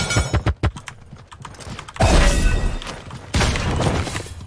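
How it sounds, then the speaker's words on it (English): Horse galloping in the video game Realm Royale: a quick run of hoof clops at the start, then a loud, dense burst of game combat noise, with the hooves mixed into the din. "Go away, horse!"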